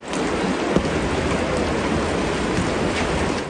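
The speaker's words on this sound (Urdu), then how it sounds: "تیز آندھی، موسلادھار بارش اور شدید ژالہ باری نے تباہی مچا دی" Heavy rain pours steadily during a violent Islamabad storm with strong wind and hail, a dense continuous roar with no voices, close and loud for the whole stretch.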